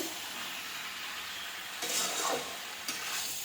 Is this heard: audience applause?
no